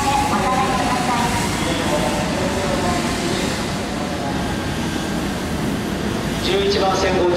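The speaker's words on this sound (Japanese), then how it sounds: "列車が到着いたします。" The East-i train pulls into platform 11 of a Japanese railway station, not for passengers to board, its loud, steady rumble filling the space, with a public-address voice carrying over it.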